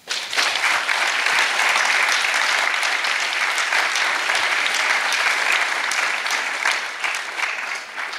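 A studio audience at a taz book-fair talk in Leipzig claps steadily for arriving guests, a dense, close and even round of applause holding for about eight seconds before it starts to thin.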